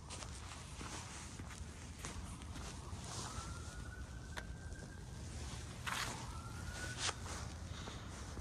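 Faint sirens wail in the distance on Ferris Road in East York, Toronto, rising and falling twice over steady outdoor noise and footsteps, far off and partly masked.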